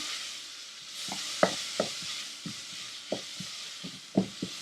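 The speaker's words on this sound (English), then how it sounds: "While the onion is sauteing" Onion with salt and turmeric sautéing in a pan for Kerala-style lamb fry, a soft steady sizzle with scattered light spoon scrapes and taps, close and fairly quiet.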